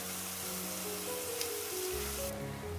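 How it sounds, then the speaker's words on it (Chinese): Salty water dumplings, Cantonese dim sum, deep-frying in hot oil over medium-low heat, giving a steady close hiss and fizz that runs unbroken throughout with a faint low hum beneath. "炸到表面金黄浮起来就可以啦"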